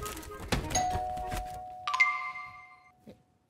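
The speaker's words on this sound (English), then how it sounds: "Is that the bell?" A doorbell chimes at a house during trick-or-treating: a ding-dong follows talking and bumps, its ringing tones sustaining clearly for about a second before fading into quiet.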